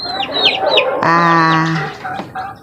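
Newly hatched chicks in a cardboard brooder box under a light, peeping in quick high chirps and clucky calls, loud and close with several overlapping voices and a steady buzzing tone midway.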